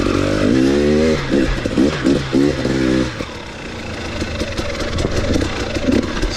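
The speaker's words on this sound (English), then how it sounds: "This bike will really lug low and just doesn't stall." A 2018 KTM 250 XC-W TPI two-stroke dirt bike engine runs close and loud on trail riding, with revving pulses and gear-stepped pitch changes early, then a lower lugging burble.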